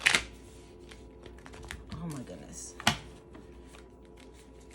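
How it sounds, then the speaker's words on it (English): Tarot cards being shuffled by hand indoors, with soft, irregular riffles and card taps, a couple of sharper slaps, and someone speaking briefly. "I don't know why I am struggling with shuffling today."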